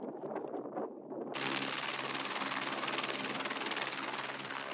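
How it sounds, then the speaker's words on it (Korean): A small nine-seat ski-equipped plane takes off from snow in New Zealand's Aoraki/Mount Cook high country, its engine roaring up into a loud, steady broadband drone after a quieter rumbling start. "사람들이 모두 탑승하자 비행기가 날아오른다."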